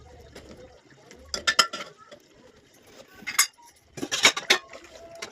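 A spoon clinks and scrapes through cooked homemade mutton curry in a pot, in two or three short bursts of close metallic knocks separated by quieter stretches.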